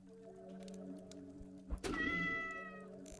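A cat yowls as it dies in the Lovecraft dungeon crawler Cyclopean, a single sharp thump followed by a long, wavering cry that fades over a steady musical drone, with no voices.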